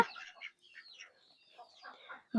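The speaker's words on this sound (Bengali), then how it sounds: "দেখুন তো এই হাঁসগুলো খাওয়ার উপযুক্ত হয়েছে কিনা" A few young ducks, raised from hatchlings, give bursts of high chirping calls with short pauses between them. The calls are close and fairly clear, ending in a brief knock.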